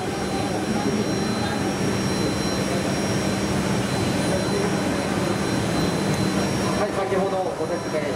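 A Kawasaki T-400 jet trainer's engine drones loudly and steadily with a high whine on top, close by and constant on the ground, while people talk over the roar.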